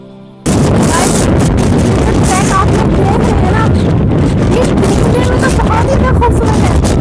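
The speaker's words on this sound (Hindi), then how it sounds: "यहाँ पर इतनी तेजी से हवा चल रही है" Strong monsoon wind at Bhivpuri waterfall roars continuously and loudly, buffeting the microphone with heavy rumbling gusts after a brief quiet start.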